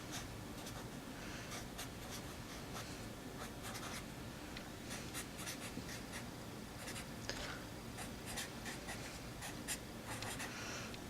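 Pen or marker scratching across a board or paper while a polynomial example is written out, a steady run of short strokes and taps, close and quiet, with no talking.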